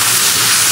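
Spice paste of chili powder, turmeric, coriander, cumin and ginger-garlic paste sizzles loudly in a pan as it is sautéed, a dense, steady, close hiss with no pauses.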